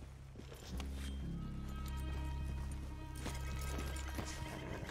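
Horses in Red Dead Redemption 2 on a hillside: hooves clopping and thudding at a walking pace with occasional snorts, close by and continuous over a low rumbling game background.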